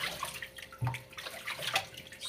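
Water runs and splashes over a six-year-old Sphynx hairless cat being wetted down in a bath, an uneven close splashing and trickling with brief louder gushes, no voices.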